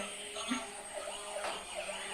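A toy police car plays a faint, warbling electronic siren, rising and falling repeatedly in the background under quiet room noise.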